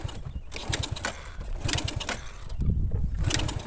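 Honda Supra X100 motorcycle engine that cuts out at full throttle despite normal fuel flow: a close, uneven putter with repeated revving surges and dips over a few seconds, no talking.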